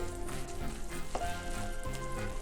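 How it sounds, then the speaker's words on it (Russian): Carrots, onion and pepper are stirred into beetroot frying in a pan for borscht, giving a dense, continuous close sizzle with one brief utensil scrape midway. "Теперь соединяем морковку, лук и перец со свеклой. Перемешиваем."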